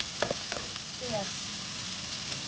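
Onion and garlic sauté in a pan for chicken caldereta, giving a steady, fairly close sizzle. A voice speaks over it, and a few light clinks can be heard.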